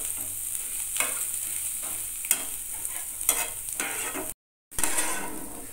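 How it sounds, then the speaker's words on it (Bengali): Egg bhujia with turmeric frying in a pan, a constant close sizzle broken by regular scraping stirs of a spatula, a brief gap of silence, then the sizzle resumes; no voices. "এবার সব কিছু ভালো করে ভাজতে হবে"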